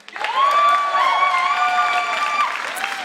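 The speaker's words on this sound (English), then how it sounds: "big round of applause for yourself" An audience at a StarCraft 2 esports grand final, WCS America 2014, applauds while people cheer and whoop loudly, the noise swelling quickly and holding steady.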